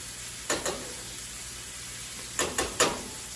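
Chicken fries in a pan for fricassee with a soft steady sizzle, broken by a few sharp crackling bursts near the start and a cluster of louder spits later, with no talk.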